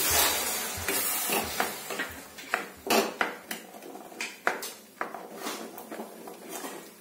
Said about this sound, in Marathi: दोन मिनिटासाठी त्याला मी असं हे करून घेते मिक्स